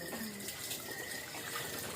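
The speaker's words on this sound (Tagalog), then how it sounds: "Nag-agas ang tubig." Water runs steadily from a tap in a home kitchen, a faint, even hiss that continues without a break.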